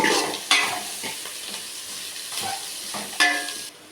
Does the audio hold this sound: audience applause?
no